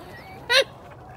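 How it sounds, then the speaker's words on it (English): A single loud, close duck quack, one short nasal honking call, rises alone over a quiet background inside a warm greenhouse where ducks scratch around in straw. "the ducks are definitely having their fun in there"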